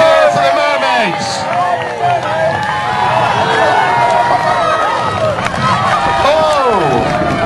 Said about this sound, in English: Big cheer, come on, big cheer for the mermaids.